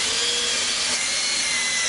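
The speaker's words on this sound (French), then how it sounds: "On utilise la perceuse avec une mèche plate. C'est une mèche de 16." Power drill with a 16 mm flat bit boring through a plastic planter, a steady loud whirring grind held for the full two seconds with no pauses.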